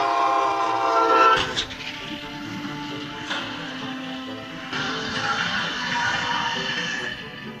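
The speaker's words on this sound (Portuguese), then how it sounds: "O trem que se aproximava praticamente não tinha chance de parar" A train nears a level crossing, its horn blaring in long sustained blasts over the rumble of the approaching cars, loud and close with brief gaps between the blows.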